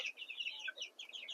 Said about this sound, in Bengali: মুরগিগুলো দেখেছেন কত সুন্দর হয়েছে।